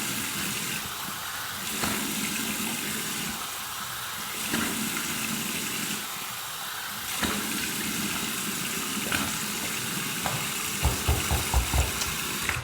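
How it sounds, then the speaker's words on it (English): Cold tap water runs and splashes onto a face in a steady rush after a shave with slick shaving soap, with a few sharper splashes near the end. "Here's my cold water rinse."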